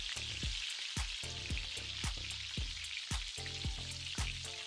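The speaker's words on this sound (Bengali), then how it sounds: "এইভাবে উল্টে পাল্টে দু পিঠই লাল লাল করে ভেজে নিতে হবে" Crispy potato and semolina snacks frying in hot oil, a dense, continuous sizzle with crackling pops and a few clinks of a utensil as the pieces are turned.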